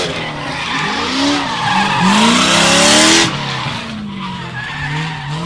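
Drift cars at Meremere Drift Park in New Zealand skid through a qualifying round, with continuous loud tyre squeal over roaring, revving engines that swell to a harsh peak and then ease slightly.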